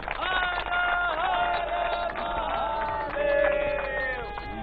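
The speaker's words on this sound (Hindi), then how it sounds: "तो जोरदार तालियां बनारस की जनता के लिए" A crowd of people in Varanasi claps and cheers loudly and continuously, with voices and shouts mixed into the applause.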